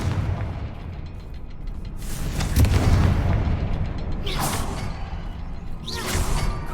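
Booming magical blasts from the Confringo fire spell in the Hogwarts Legacy video game, with a swelling rumble and sharp whooshing bursts over a steady game soundscape.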